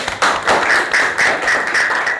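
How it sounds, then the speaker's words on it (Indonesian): A class claps hands together in a rhythmic, evenly spaced pattern of sharp bursts, close and fairly loud, with no talking. "Tepuk tangan untuk kita dulu."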